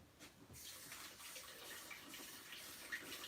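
Ice cold water runs from a kitchen sink tap in a steady faint hiss and splash, a quiet continuous stream while a pie filling is prepared.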